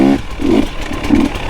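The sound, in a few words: KTM 300XC dirt bike engine revving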